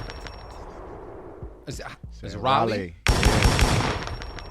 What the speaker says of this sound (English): Oh, okay, we're gonna throw a little gunshot out there.